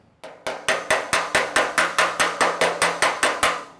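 Cheap hammers strike the dented sheet metal of a Model A trunk lid in a steady run of about fourteen evenly spaced, ringing metallic blows, loud and close, with no talking.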